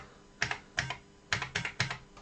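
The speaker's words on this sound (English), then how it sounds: "And we can test the keyboard." Keys on an Atari 600XL computer keyboard clack in a short burst of about seven sharp, close taps with uneven spacing, alone and fairly quiet.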